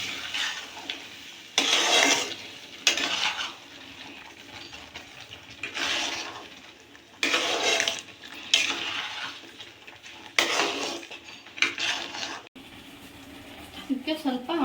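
A spoon stirs and scrapes through watery paneer gravy masala in a cooking pot, making repeated rough swishing strokes in uneven bursts with quieter pauses between them.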